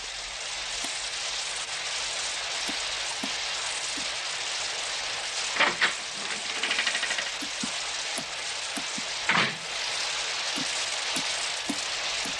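Steady, dense rain hisses down throughout a French audio drama scene, loud and close, with a regular pattern of drips or ticks and a couple of brief louder splashes or gusts, and no talking over it.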